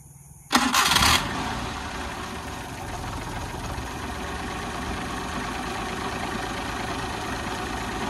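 A used Maruti car's carburetor engine cranks briefly and catches on half self-start, then settles into a steady, even idle with a low chugging rumble that continues to the end.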